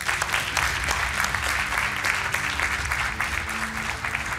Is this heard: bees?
no